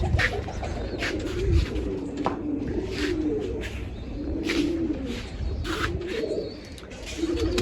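Pairs of pigeons coo repeatedly in low, rolling calls at close range, with short chirps and rustling from other birds mixed in and no talking.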